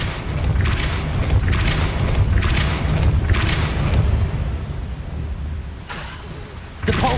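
Repeated heavy, booming spell blasts from the Depulso force charm in Hogwarts Legacy, four or five broad thuds in steady succession over a dense low rumble, with a final burst at the end.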